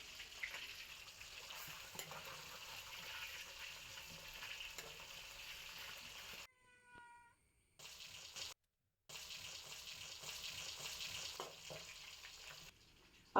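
Mackerel coated in ground masala frying in hot oil: a continuous, faint, steady hiss and crackle close by, briefly broken by a short gap with a few high tones, then the sizzle resumes, with no talk.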